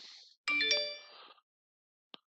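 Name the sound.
phone text message notification sound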